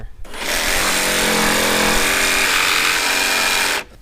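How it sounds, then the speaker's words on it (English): A jigsaw cutting through a range hood chimney board, starting abruptly into a loud continuous buzzing whine with a rough rasp, holding steady for over three seconds before cutting off. "So I just drilled a hole as a starting point for my jigsaw."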